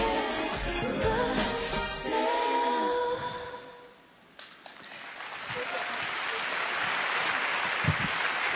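An audience at a charity stage show applauds after a performance, a dense wash of clapping that swells in the second half after a stretch of amplified music and a voice.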